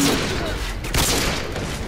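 Gunfire in the video game Call of Duty Modern Warfare 2 during a free-for-all match, a dense, noisy crackle of overlapping shots, fairly loud and steady over a couple of seconds.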